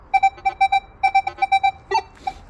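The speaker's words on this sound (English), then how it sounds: "So do it till the chirping stops." A Minelab Manticore metal detector with sensitivity turned up emits rapid repeated chirping beeps in quick bursts, a clear electronic tone pulsing about a dozen times with a slightly erratic pattern near the end.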